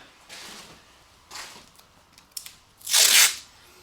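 Tape being pulled from a roll and torn off while covering a radiator before painting, a few short rasping pulls followed by a louder sharp rip near the end, close and alone.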